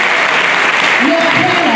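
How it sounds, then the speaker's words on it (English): An audience at a graduation ceremony claps loudly and steadily in a dense, continuous wash, with a voice rising briefly beneath the applause near the end. "If you are not clapping, you are jealous."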